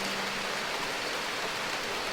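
Heavy rain hammers down steadily and loudly outdoors at a fishing lodge in June, a dense unbroken roar of drops close by with no voices.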